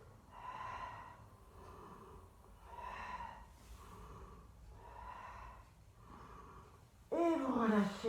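Slow, controlled breaths in and out during a beginner Pilates exercise, several even cycles close to the microphone and fairly soft, ending with a voice speaking.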